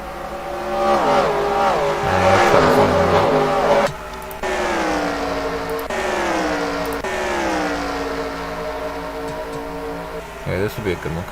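Race cars in a racing video game sweep into a turn, engines droning loud with rising and falling pitch as revs shift, one sharp gear change midway, continuous and near.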